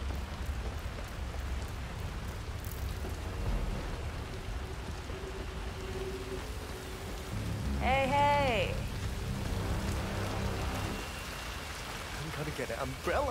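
Steady rain falls in the video game Hitman 3, set in Chongqing, China, a constant hiss throughout with a short, rising voice-like tone breaking through near the middle.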